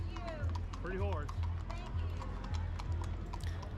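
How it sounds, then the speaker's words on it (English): Horse hooves clip-clop at a steady, repeating pace during an oyster festival parade in Amite, the hoofbeats fairly close beneath a crowd's ongoing chatter and calls. "Pretty horse"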